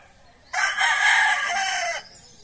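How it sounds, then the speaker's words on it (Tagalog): A single loud rooster crow rings out close by in rural Bicol, Philippines, lasting about a second and a half against a quiet background. "Tapos may mga manok sila."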